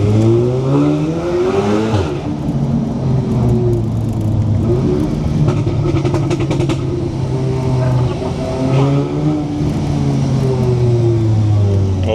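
A loud 550 bhp Audi S3 engine revs hard on city streets in Paris, its exhaust rising and falling in repeated surging pulls, close and dominating throughout with a constant rumbling undertone.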